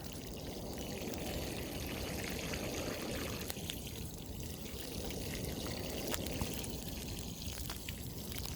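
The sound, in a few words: water poured onto planted elephant ear bulbs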